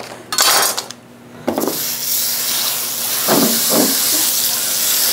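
Vegetables hitting butter in a hot Stargazer 13.5-inch brazier pan, giving a loud steady hiss and sizzle that starts with a sharp burst and then settles into a continuous frying crackle, with no talk.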